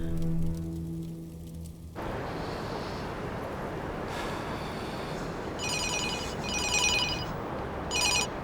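A telephone ringing on an outgoing call: a steady electronic tone first, then repeated bright, high ringing bursts in short, evenly spaced pulses over a noisy background.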